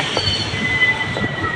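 A train pulling into Okha station with a steady rumble and a thin, sustained wheel squeal, nearby and moderately loud, with no talk.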